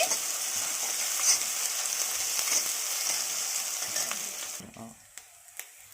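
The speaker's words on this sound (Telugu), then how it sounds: "నేను ఐరన్ కడాయిలో వండుతున్నానండి." Mushroom curry frying in an iron kadai, a bright continuous sizzle with scraping stir strokes that suddenly drops away near the end, leaving a few light clinks.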